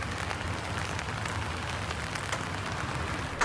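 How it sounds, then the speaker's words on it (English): Rain falling outdoors during flooding weather, a soft, steady hiss of drops on surfaces, faint and uniform with one sharp tap near the end. "There seems to be some rain."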